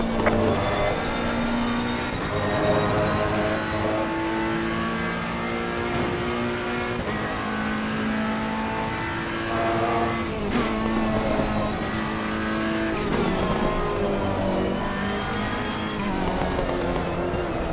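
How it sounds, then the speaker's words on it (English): A race car engine in Assetto Corsa Competizione at Silverstone, near and loud, holds a steady high whine that shifts through gears and revs, with tire noise under it and no voices. "There's a car exiting pit lane."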